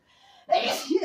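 A single sharp sneeze bursts out close by after a brief quiet intake of breath, loud and abrupt, lasting about half a second.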